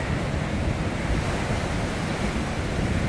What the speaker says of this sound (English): if these are 25 foot sneaker waves, yeah, we're okay